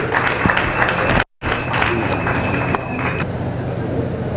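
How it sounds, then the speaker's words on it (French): Audience applause at a French-language book presentation and signing ceremony, a steady crowd of clapping that fills the room and is cut off by a brief dropout before carrying on; people talk faintly over the noise. "Sous vos applaudissements, s'il vous plaît, mesdames et messieurs."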